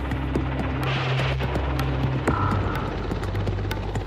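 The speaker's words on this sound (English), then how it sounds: "Mi-8s are used as attack helicopters as well" A Mil Mi-8 helicopter in flight, a constant loud rotor drone with rhythmic blade thumps and a steady turbine hum throughout.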